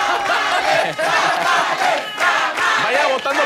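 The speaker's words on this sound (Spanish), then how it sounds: "Fuerte el aplauso para ellos." A live studio audience at a Mexican comedy show claps and cheers with whoops and shouting, a loud, dense crowd roar that swells in waves without pause.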